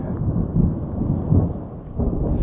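Thunder rumbles loud and close through a lightning storm in Arizona, a continuous low rolling roar with heavier swells and rain in the background, no talking.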